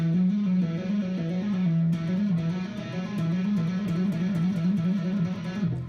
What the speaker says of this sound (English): This is about as simple of a demonstration of what legato tapping is.